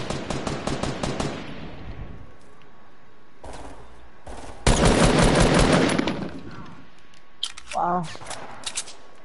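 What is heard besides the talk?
gunfire in a video game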